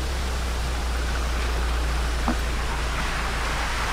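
Steady broadband rushing of fast-moving water, continuous and loud with no pauses, like a strong river current flowing close by.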